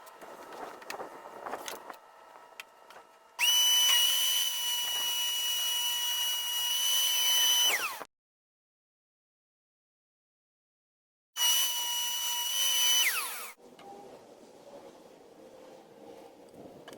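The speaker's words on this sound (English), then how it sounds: "I'm just going to cut a 45-degree angle in it to make my French cleat pieces." A power saw slices a 45-degree bevel into wood to make French cleat pieces, with two loud, high-pitched cutting runs separated by silence, each spinning down as the blade slows.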